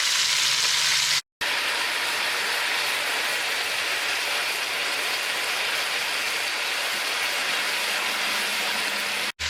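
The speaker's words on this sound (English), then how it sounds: "You might want to get a few more little pieces of your beef fat in there as well while they're browning." Oxtails and pieces of beef fat brown in a hot pan with a loud, steady close sizzle and crackle that continues throughout, broken once by a brief cut, with no talk.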